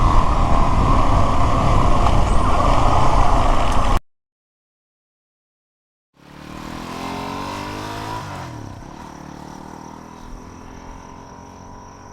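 A motorbike passes close by, loud and steady for about four seconds, then cuts out; after a pause a second, quieter engine pass rises and fades away with a falling pitch sweep.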